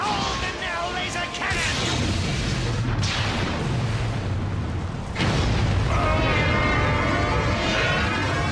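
A laser cannon fires and explodes during a jungle battle in the Transformers Armada video game, a sustained loud roaring blast with booming bursts and crashes, layered over game music and character voices.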